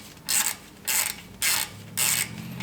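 A ratchet wrench with a 13 mm socket tightens a brake caliper bolt on a Ford Focus RS, giving four close, evenly spaced bursts of rapid clicking with short pauses between strokes.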